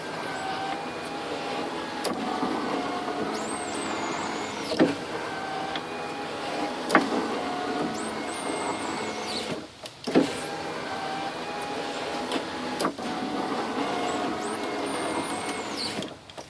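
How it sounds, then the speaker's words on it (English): A power window on a Pontiac Grand Am, just repaired with a greased regulator, runs up and down repeatedly with a steady electric motor whine and sharp thunks at each stop, close and clear with no talking. "the window clearly operates freely"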